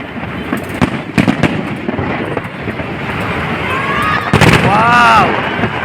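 Fireworks display bursting over the Esplanade along the Pasig River at an inauguration, with repeated loud booms and crackling pops in an uneven rhythm, a whistling rise near the end, and excited crowd voices throughout.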